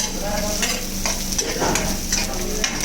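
Vegetables with capsicum sizzle and fry in a pan for a healthy vegetable soup, a steady close crackle broken by repeated stirring scrapes of a utensil.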